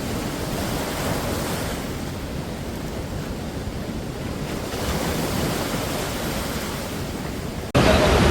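Steady broadband roar of rushing water at the Perunthenaruvi waterfall below the dam, continuous and fairly loud throughout, with a sudden louder burst near the end.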